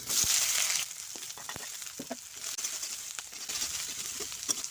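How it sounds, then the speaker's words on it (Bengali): Chopped onion and green chilli hit hot oil in a kadai, a loud sizzle bursting at the start and then settling into a softer steady frying crackle with occasional light clicks and stirs. "কড়াইতে তেল গরম হয়ে গিয়েছে কেটে রাখা পেঁয়াজ আর লঙ্কা আমি ফোড়নে দেব"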